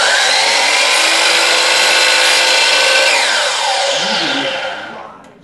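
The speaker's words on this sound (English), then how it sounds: "Saw." A power saw cuts hex axle stock with a loud, steady high-pitched whine that drops in pitch and winds down in the final second.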